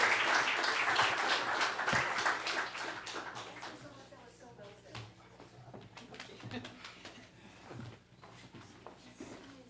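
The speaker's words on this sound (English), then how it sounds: "Let's do another round of applause" A round of audience applause at a conference on digital public infrastructure, dense clapping at first that thins into scattered claps, with a voice briefly speaking underneath.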